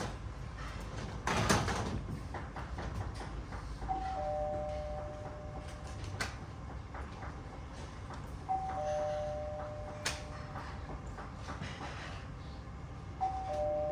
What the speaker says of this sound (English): Stop pressing the bloody doorbell over and over.